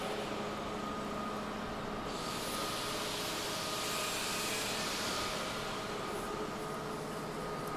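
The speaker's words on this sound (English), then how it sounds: "And the line combined the 20 rolling stations." An aluminum window-screen frame roll forming machine with 20 rolling stations runs steadily, giving a continuous, dense mechanical roar and hum that holds level throughout, with no voices.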